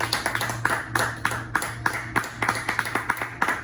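Church congregation clapping together during a Spanish-language sermon, a fairly regular rhythmic beat of claps over a low steady hum, moderately loud and without voices.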